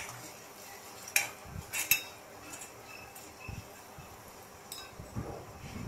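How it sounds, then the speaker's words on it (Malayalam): Turmeric and chili powder are stirred in a pan, heard as faint scraping with a few sharp clinks of a metal utensil against the pan, quiet and close. "ഒരു കാൽ ടീസ്പൂൺ മഞ്ഞൾപ്പൊടി, ഒരു 1/4 ടീസ്പൂൺ മുളക് പൊടി ഇട്ട് നന്നായി ഒന്ന് വഴറ്റിയെടുക്കാം."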